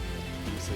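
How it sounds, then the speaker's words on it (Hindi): Rain falls steadily in an outdoor hillside setting, a dense, even patter on surfaces with no pauses, fairly close and moderately loud throughout. "सीरियसली मतलब बारिश भी हो रही है"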